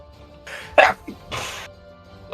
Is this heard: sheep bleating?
no